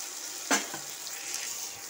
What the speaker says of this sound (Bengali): দিয়ে ভালো করে এটাকে নাড়াচাড়া করে নিচ্ছি